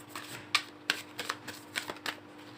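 A deck of tarot cards is shuffled close by, making soft, papery riffles and light slaps in an uneven run of about eight quiet strokes.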